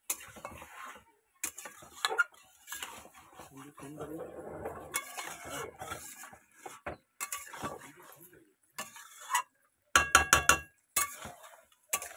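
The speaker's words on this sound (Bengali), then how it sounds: "দিয়ে দিয়েছি দেখো ধুয়ে রাখা মটনগুলো। ভালো করে কষাবো।" Washed mutton pieces are stirred and sautéed in a pan, giving intermittent scraping and clinking bursts of a utensil against the cookware, with quiet gaps between strokes and some low frying noise underneath.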